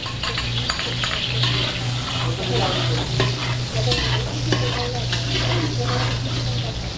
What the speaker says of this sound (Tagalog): Ibigisa na natin sa bawang sibuyas